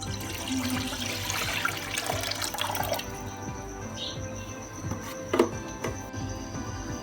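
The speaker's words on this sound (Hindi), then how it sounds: "तो सबसे पहले हम डालेंगे दूध।" Milk pours into a pot as the first step of rice kheer, a close, splashing liquid stream for about three seconds that then fades into quieter kitchen noise with a single soft knock near the end.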